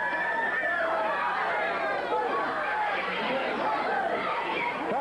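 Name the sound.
wrestling crowd roaring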